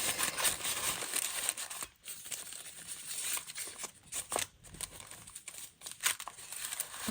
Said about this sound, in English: And then just do a little bit of folding.